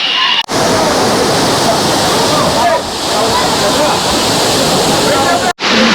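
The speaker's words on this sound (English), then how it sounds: "So that behind me is the Neer Waterfall." Neer Waterfall near Rishikesh, India, roaring loud and close as a dense continuous rush of falling and flowing water, with brief cuts at the start and end and a voice talking underneath.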